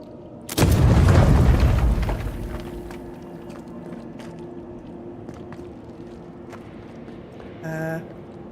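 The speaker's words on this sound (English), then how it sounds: "This is an explosion." An explosion in the video game Avowed bursts with a loud, deep boom that rolls off over a couple of seconds, followed by quieter ambient game sounds and a brief tonal chime near the end.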